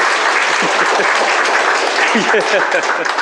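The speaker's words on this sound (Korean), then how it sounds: "박수 쳐요" Dense, steady applause from a studio audience at a health talk show, filling the whole stretch at close range, with voices audible over the clapping.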